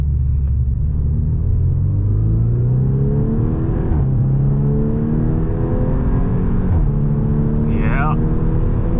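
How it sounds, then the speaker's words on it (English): A Volkswagen Scirocco R accelerates hard from inside the cabin. Its engine note climbs in a rising rumble through several gear changes, with brief dips between gears, while a voice talks over it. "Let's do a little bigger acceleration, shall we?"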